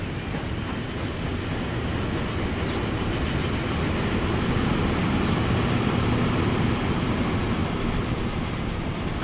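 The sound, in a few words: train departing in the video game Transport Fever 2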